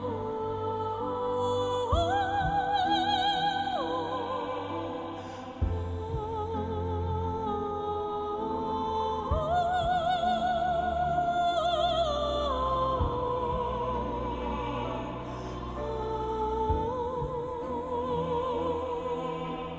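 A choir of tenors and sopranos sings Ave Maria, with sustained, layered high voices holding long notes that shift slowly in pitch over a steady, full accompaniment. No one speaks.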